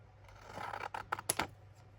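Scissors snip through stamped paper close by, a few short crisp cuts with light rustling, quiet and alone.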